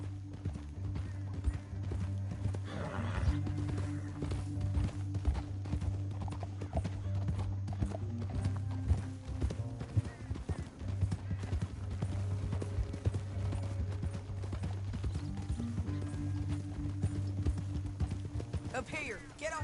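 Horse hooves clip-clop steadily at a gallop through a Red Dead Redemption 2 canyon ride, occasional whinnies, running under continuous low music and voices talking throughout.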